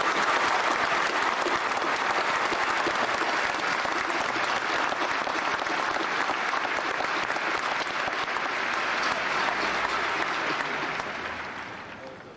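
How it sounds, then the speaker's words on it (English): Sustained, loud applause from a large audience honouring the parents of the West Point class of 2000 at a graduation event, a steady dense roar of clapping that fades out near the end. "I'd say a round of applause is in order for the parents of the West Point class of 2000"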